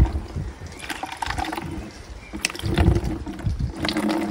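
Water pours out of the pipe of a compost water heater, a close, splashing, gurgling flow that rises and falls irregularly without any voices.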